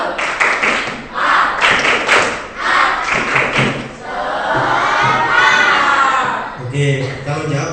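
A class of seventh graders claps a rhythmic spirited chant together, with patterned thumping claps and loud group shouting in chorus, fairly close and energetic.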